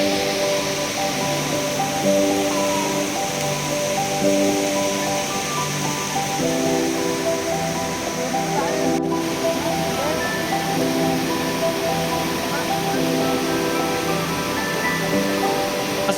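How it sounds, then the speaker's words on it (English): Water flows steadily through Cedar Creek in the Tamborine rainforest, a continuous broadband rush that stays even from start to finish, with no talk over it. "As we were following the trails inside this rainforest, we reached the Cedar Creek."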